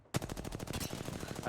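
Rapid automatic gunfire rattles on in a fast, even burst during an Apex Legends match, dense and continuous at moderate loudness.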